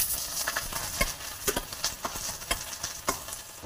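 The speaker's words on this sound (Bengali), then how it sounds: "বরবটি, সবজিগুলোকে একটু ভাজা ভাজা করে নেব।" Mixed vegetables including yardlong beans with green chilli, ginger, tomato and grated coconut frying in a pan, with a low sizzle under repeated scraping and stirring clicks from a spatula, close and irregular.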